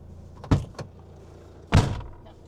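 A vehicle door is tried and opened at a park-up in Portugal. Two separate mechanical thumps and latch clunks sound a little over a second apart, each fading quickly against quiet background noise.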